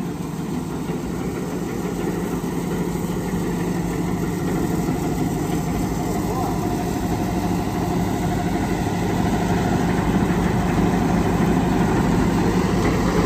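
A Tomahawk bale processor running empty with its blade spinning, giving a steady, loud mechanical drone with a low engine hum that holds constant throughout.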